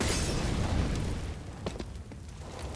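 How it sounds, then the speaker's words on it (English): Grenades go off on the de_inferno map in Counter-Strike during an esports match, one heavy rumbling blast filling the opening second, then fainter pops and a low fading rumble at a distance. "Good nades onto Freiberg and Pyth, taking both down to roughly 50 HP, so a real big nade there"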